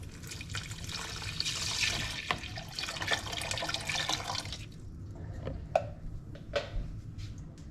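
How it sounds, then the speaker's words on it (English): Chicken stock pours into a pot for salmon chowder, a close liquid gush and splash for a few seconds, followed by scattered drips, clinks and small splashes. "Mom's gonna add the chicken stock."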